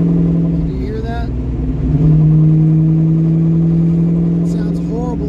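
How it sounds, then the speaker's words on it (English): A 42-year-old Ford Mustang's failing rear differential gives off a steady droning gear whine under throttle over the engine and road noise, holding a constant pitch inside the car with voices briefly audible. "That is definitely something in the rear differential. Something in the rear gears is letting go."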